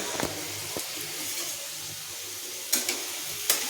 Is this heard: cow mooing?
no